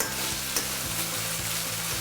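Tomatoes sauté in oil with a continuous close sizzle and a spatula scraping the pan in a steady stirring rhythm, with no voice.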